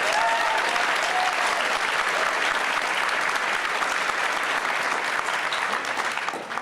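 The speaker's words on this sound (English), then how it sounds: "Clap it up." An audience at a live evening talk with LeVar Burton breaks into loud, sustained applause, a dense wash of clapping that tapers off at the very end.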